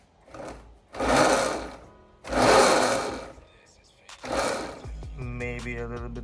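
A Surron Light Bee electric dirt bike fitted with a new chain drive runs up in three loud whirring, drill-like bursts close by, separated by brief pauses and ending in a steadier hum.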